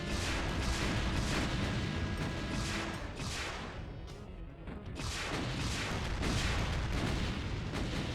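Repeated rocket blasts from the Doom Brutal Mod, dense booming explosions rolling one into another near and loud, with a brief dip in the middle before the barrage resumes.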